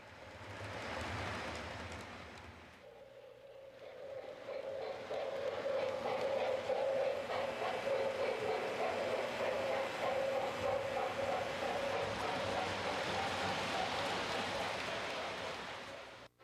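An MTH Railking toy electric train runs steadily with a continuous rolling rumble and a faint hum, after a brief quieter moment near the start, staying close and fairly loud throughout.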